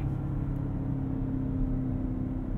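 A 2020 BMW X7 M50i launching hard under launch control at night, heard from inside the cabin as a loud, steady engine drone with a constant low hum and no talking.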